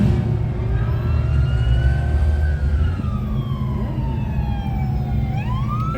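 A wailing siren sweeps up and down close by over steady traffic rumble on a busy Chicago street, loud and continuous, with the tone shifting as the emergency vehicle passes.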